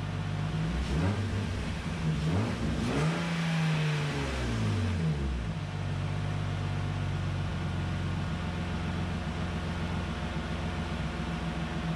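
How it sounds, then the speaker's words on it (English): A BMW E36 engine starts and runs with a rising, sweeping tone early on, then settles into a steady idle hum for the rest of the stretch, moderately close. "So I'm gonna have Booker start the car again and we're just gonna continue this process."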